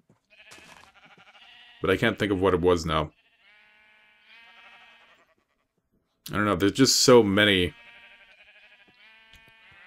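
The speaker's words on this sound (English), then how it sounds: "Down over here, we put in our sheep farm." Sheep bleat repeatedly on a Minecraft sheep farm, thin wavering calls scattered through the clip, partly under someone talking in two bursts.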